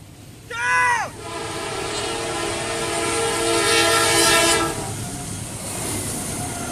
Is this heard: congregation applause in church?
no